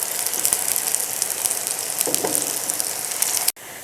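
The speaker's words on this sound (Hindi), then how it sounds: "साइड्स जो है ना वो फ्राई होना शुरू हो गई हैं" Potato tandoori kebabs sizzle in a pan of hot oil, a loud, steady crackling fry with scattered pops, cutting off abruptly near the end.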